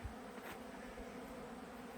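A steady, close buzzing of honeybees on their first spring flight fills the air continuously without pauses or voices.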